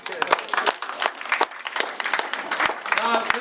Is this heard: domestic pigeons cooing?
no